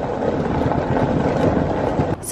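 A John Deere Gator utility vehicle drives along outdoors in a garden, its steady engine rumble and rolling noise continuous and close, with wind buffeting the microphone and a brief rustle at the end.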